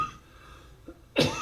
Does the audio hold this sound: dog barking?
no